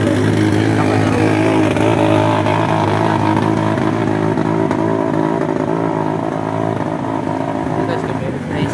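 A motorcycle engine that has stalled in deep flood water sputters and runs roughly as it is restarted, idling with a low steady drone throughout, mixed with background chatter and outdoor noise.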